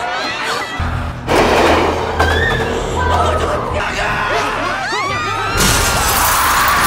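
Glass shatters amid a noisy crowd, sharp breaking crashes over dramatic sound and shouting voices.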